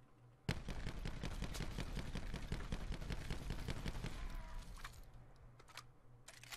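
Rapid hip-fire bursts from an Auger DMR in Call of Duty: Black Ops 4, a steady loud run of sharp shots under a low hum, tapering to scattered final shots.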